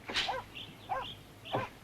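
Dogs give a few short barks, three separate yaps spaced roughly evenly in under two seconds, moderately close with a faint hum behind them.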